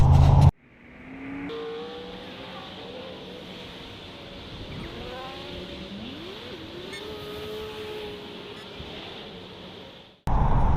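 A car slows near a highway on-ramp and pulls onto the roadside, its engine a steady close hum with gliding tones rising and falling, and no voices.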